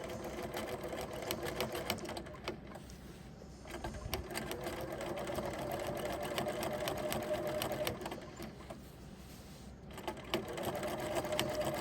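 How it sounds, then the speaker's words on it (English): Sewing machine stitching in the ditch along a seam of a baby quilt, a steady close rapid needle rattle with brief pauses as the fabric is guided. "I'm going to stitch in the ditch. So I'm stitching on the white as close to that yellow seam as I can get."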